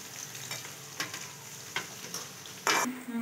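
Onions stirred while frying in oil, a steady close sizzle punctuated by several spoon scrapes and taps against the pan, with a louder clatter near the end.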